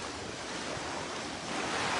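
Sea surf roars steadily during flooding from a typhoon at Lemery, Batangas, a continuous broad wash of waves mixed with wind noise on the microphone, growing slightly louder toward the end.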